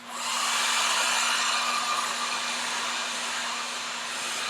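A hair dryer blows steadily and close while drying a watercolour canvas, giving a continuous whooshing roar with a constant motor hum and no talk.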